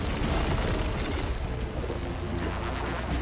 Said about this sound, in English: My god, how much plasma are you gonna fire off?